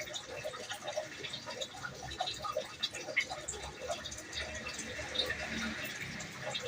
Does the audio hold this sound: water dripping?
yes